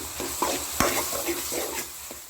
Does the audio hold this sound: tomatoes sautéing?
yes